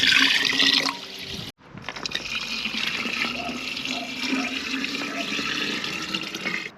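Water steadily poured into a large 5–10 litre glass jar over sugar for homemade lemon elderflower drink, a continuous close gushing and splashing that runs for several seconds.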